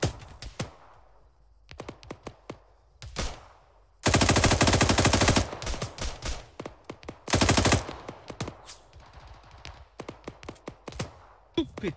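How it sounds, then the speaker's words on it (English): Machine gun fire in the combat game Arma 3: two sustained bursts of rapid automatic shots stand among scattered single gunshots, some close and loud, others more distant. "That gunfire, man, that sounds dangerous."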